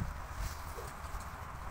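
Hooves of a heavy mare clip-clop softly, faint and fairly distant, an irregular plodding under steady background noise.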